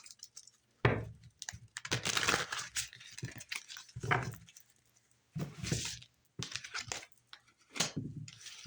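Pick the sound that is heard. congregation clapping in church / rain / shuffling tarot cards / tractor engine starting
shuffling tarot cards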